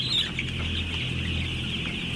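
Chickens cluck in a Thai chicken farm, a dense, continuous chorus of fowl heard over a steady ventilation hum.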